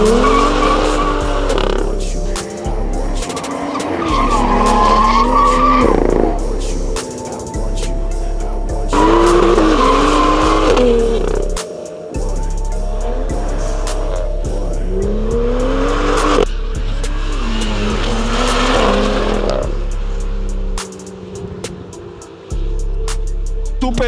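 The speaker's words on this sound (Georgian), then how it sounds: "Subaru Impreza რალის ავტომობილი და Tesla მოდიან" A Subaru Impreza rally car and a Tesla race head to head, loud tires squealing and skidding again and again with rising and falling engine revs across the whole stretch.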